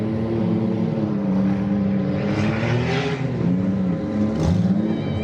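Demolition derby cars, including a blue Chevrolet Monte Carlo numbered 19, race around a Ludington, Michigan dirt track, with engines droning and rising and falling in pitch as they slide through a turn, loud and continuous.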